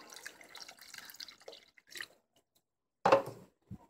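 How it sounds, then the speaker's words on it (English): Water is poured from a can into a pot roast in short splashing bursts, with pauses and a final louder gush and splash, quiet and close. "I'm gonna fill the can up with water and just pour in what I think it's gonna need."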